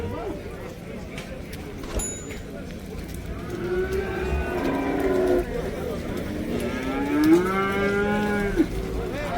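Cattle moo loudly and repeatedly at a busy livestock market, with several drawn-out calls rising over a steady murmur of voices and trading chatter.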